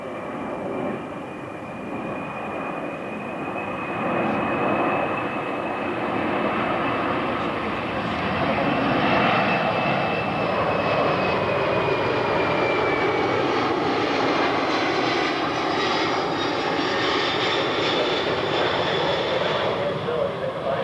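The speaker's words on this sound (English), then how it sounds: "As the aircraft passes, please notice the head distance." A C-130 military transport aircraft passes overhead, its propeller engines droning loud and continuously, building and then easing as it flies by.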